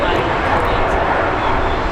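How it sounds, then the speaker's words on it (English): A Boeing 767 jet at Brisbane Airport gives off a steady, loud, broadband engine roar that fills the whole stretch without letting up. "There we go, a beautiful 767. Best jet we get in Brisbane."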